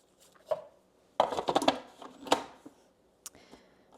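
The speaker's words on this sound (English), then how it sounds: "finish chopping up the butter and add it" Knife chopping butter for homemade pie crust on a cutting board: a few sparse taps, then a quick burst of close, crisp chops, followed by scattered softer knocks.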